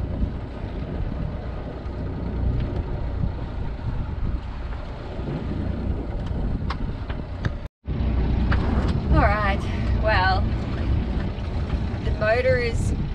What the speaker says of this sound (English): Motor is currently going as long as we keep it at a very low RPM